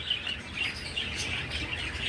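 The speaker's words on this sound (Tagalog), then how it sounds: "Doon naman tayo sa sa mga racing pigeon ko." Racing pigeons and breeders in a loft during breeding season make short chirps and calls, fairly close and moderately loud, in a brief stretch without talk.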